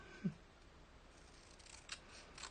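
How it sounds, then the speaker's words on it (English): Scissors snip fabric in a quilting pocket project, a single faint close cut followed by soft rustling and a couple of quieter handling sounds in a quiet room. "I forgot to cut something off."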